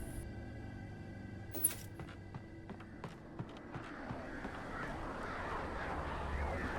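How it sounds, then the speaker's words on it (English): A few scattered crow caws in a forest in the video game Alan Wake ring out over a steady ambient hum that gradually grows into a rushing background noise. "You crows. Stop it. You know I don't like loud noises."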